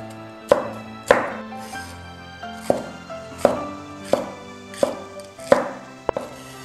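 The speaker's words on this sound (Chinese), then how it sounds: "青红椒各准备一个，从中间切开，斜刀切段。" A kitchen knife slices green and red bell peppers into diagonal segments on a cutting board, about a dozen crisp, evenly paced chops ringing out close and clear with no talking.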